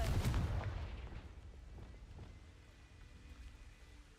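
Confringo fire blast spell cast in Hogwarts Legacy, a loud booming burst at the start that rolls into a crackling, rumbling decay, with no voices.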